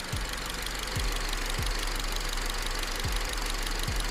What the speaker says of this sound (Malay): Nampak enjin tu dah shaking, dah bergoyang.